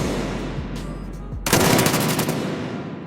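Rapid repeated gunfire as a masked man shoots at a cafe's front glass window and signboard, a dense burst of shots breaking in suddenly after a low rumbling lead-in and continuing to the end.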